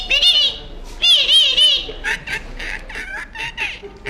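A forest officer mimics a parrot with his voice, producing shrill warbling, chattering squawks in several quick bursts, loud and close, with a bit of nearby talk.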